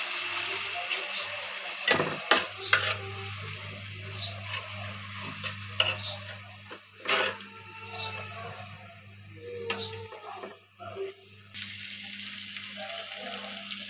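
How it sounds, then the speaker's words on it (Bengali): Chicken and ground garlic and cumin pastes being stirred in a hot pan, with a steady sizzle running underneath and repeated scraping knocks of a spoon against the pan. "এবার কষিয়ে নেব।"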